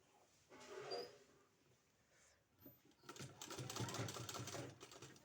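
A sewing machine runs faintly in short bursts, its quick rhythmic stitching growing busier toward the end as a strip is sewn onto a baby frock.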